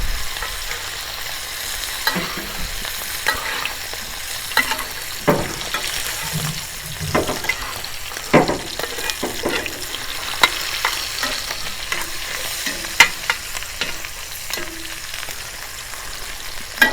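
A ribeye steak sizzles and spits in a hot cast iron pan with melted fat, crackling steadily throughout with scattered sharper pops and occasional handling or scraping noises, close and fairly loud.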